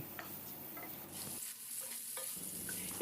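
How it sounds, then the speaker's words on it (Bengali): Fried pointed gourd being stirred into spice paste in a pan for doi potol, with a soft close sizzle and scraping stir strokes that briefly thin out mid-way before the frying hiss returns, no voices. "নেড়ে ছেড়ে মশলাগুলো পটলের গায়ে আমি লাগিয়ে দিচ্ছি"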